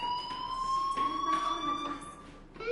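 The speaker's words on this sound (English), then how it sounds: "do you hear that fire alarm? That means you should be outside." A fire alarm in the video game Life is Strange, heard as a steady electronic tone with a sustained pitch over a low background hum. It continues through the whole short stretch at moderate loudness, with no voices over it.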